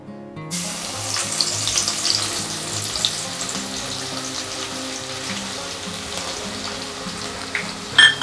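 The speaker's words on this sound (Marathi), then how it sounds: "आपण लसूण तळून घेऊयात तर मी इथे साधारण पंचवीस ते तीस लसणाच्या पाकळ्या छान अशा ठेचून घेतलेल्या आहेत" Crushed garlic cloves frying in hot oil for a crisp chivda snack, a dense continuous sizzle that fills the whole stretch, with a brief louder clatter near the end.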